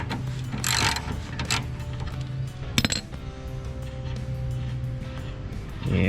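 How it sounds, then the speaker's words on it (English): Steering nut being loosened on a John Deere D Series riding mower, a few sharp metallic clinks and a ratchet-like rattle over a low steady background hum, close by. "And take your nut off of this."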